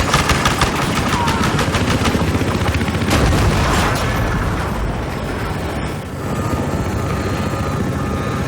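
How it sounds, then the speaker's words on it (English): A helicopter with side-mounted .50 caliber machine guns in the Battlefield Hardline shooter game: steady rotor roar under rapid bursts of heavy gunfire and booming impacts, loud and continuous throughout. "Found these, what I guess, 50 caliber machine guns on the side of the helicopter to be strangely ineffective against infantry."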